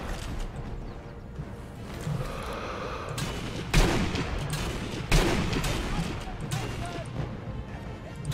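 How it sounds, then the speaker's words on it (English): Scattered gunfire rattles through a Sniper Elite 3 co-op firefight, with two sharper close impacts standing out over a constant rumbling battle din, and a voice talking throughout. "I'm getting shot from the left."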